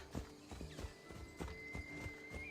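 Horse hooves clip-clop in Assassin's Creed Odyssey, a steady trotting rhythm of distinct near hoof strikes, about two per second, with a faint tonal ambience behind.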